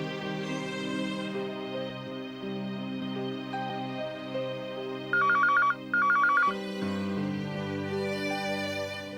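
A telephone rings in a quiet indoor setting, two short bursts of electronic trilling standing out clearly over a steady background tone, with no talking.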